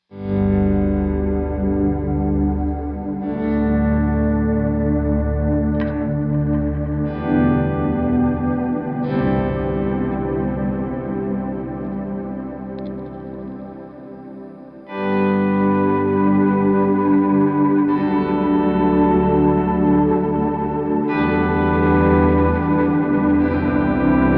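Electric guitar chords ring through a shimmering pitch-shifted effect from Meris LVX and Mercury X pedals, with chorus and echo, sustained and loud, changing every few seconds with no talking.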